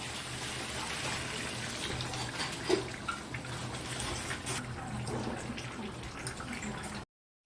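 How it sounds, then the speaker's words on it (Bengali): Water is poured into a pan of hot spiced oil while cooking a katla fish curry, a steady close splashing, sizzling hiss that runs for several seconds before cutting off. "এবার আমি জল দিয়ে দেবো।"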